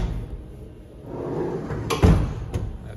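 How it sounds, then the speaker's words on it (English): Doors of a CNC mill sliding shut after a part is clamped in the vise: a soft rolling slide, then a solid thud and a lighter knock, close by over a low machine-shop hum. "Close the doors."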